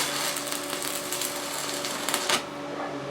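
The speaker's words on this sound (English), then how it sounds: "let's look at the stick welding function and see how easy it is to establish an arc" An Arccaptain MIG 200 multi-process welder in stick mode strikes an arc that settles into a loud, continuous crackling buzz with a faint steady hum, then cuts off abruptly near the end.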